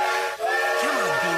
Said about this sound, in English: The apple train is here.